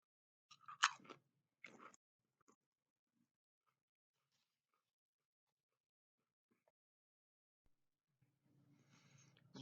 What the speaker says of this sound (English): Light and airy initial crunch. Very flaky. The pecorino cheese really shines.